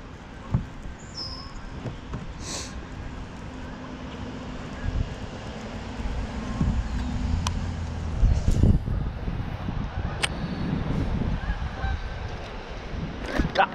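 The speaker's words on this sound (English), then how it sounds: "What is, oh, that's a bird." Several sharp goose-like bird honks ring out at intervals over steady wind and outdoor rumble beside a pond, some near and loud, others fainter.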